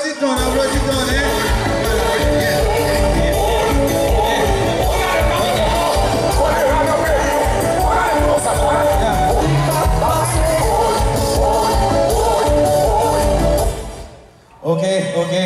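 A crowd at a church gathering applauds and cheers loudly and continuously for about fourteen seconds, with voices and shouts mixed in, before the noise cuts off abruptly.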